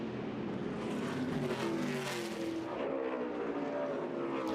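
Race cars at Phoenix Raceway in an ARCA Menards Series West race, a dense, continuous engine roar with shifting pitch as several cars run together, loud and unbroken with no talk.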